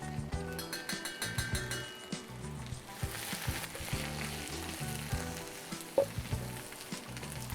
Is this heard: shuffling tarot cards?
no